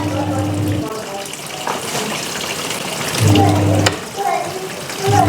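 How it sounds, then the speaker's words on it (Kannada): Water pours into a washing machine that runs off a UPS, a steady rushing hiss over a low electrical hum, growing louder midway and again near the end. "ಇವಾಗ ನೀರು ಹಾಕಬೇಕು"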